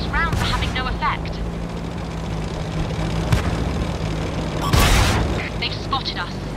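Tank cannon firing in the World of Tanks video game: one loud, sharp boom late in the clip, standing out from steady engine rumble and scattered battlefield noise, with a few faint earlier reports.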